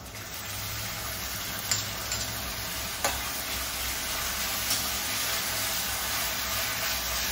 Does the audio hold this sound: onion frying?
yes